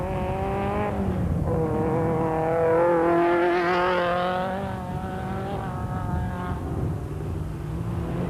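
A Porsche rally car racing in the 1996 Roof of Africa rally, its engine note rising and falling through gear changes as it passes close and loud, with no talk.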